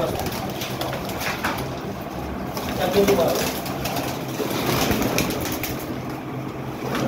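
Soft, low pigeon coos repeat under someone talking nearby, with a faint mechanical rattle and outdoor background noise.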